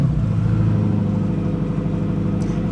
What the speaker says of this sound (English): Let's rev it. We press the start.